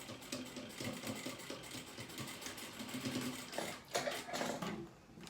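Sewing machine stitching a small beginner's pouch, backstitching at the start and end, with a rapid mechanical rattling hum in bursts that speed up and pause briefly, close and clear with no talking.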